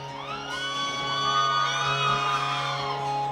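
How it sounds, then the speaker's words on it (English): A large crowd at a punk concert screams and cheers in a sustained roar, loud and continuous, with rising and falling shouted tones. "Come on, let me hear you scream, Whiskey."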